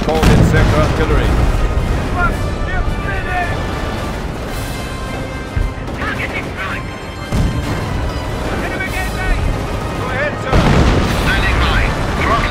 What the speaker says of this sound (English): Panzer, you have called in sector artillery.